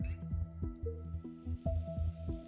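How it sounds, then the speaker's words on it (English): Watering a plant in the game Rumu: a series of rhythmic, close dripping and squishing liquid sounds repeating in a bouncy pattern, fairly loud and alone. "Can I water the plant?"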